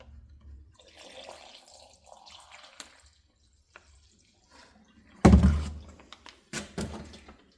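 Used cleaning solution is poured into a bag holding small-engine carburetor parts, giving a brief loud splash and gurgle, then a few smaller sloshes after a quiet stretch.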